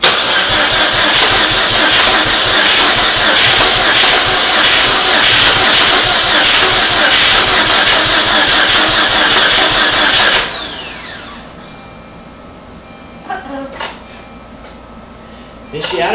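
A 2006 Saturn Ion with bad engine noises cranks loudly and steadily with a rapid rhythmic churn for about ten seconds without catching. It then falls quiet, leaving faint background sounds and a few brief knocks.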